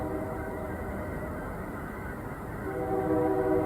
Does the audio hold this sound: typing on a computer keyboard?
no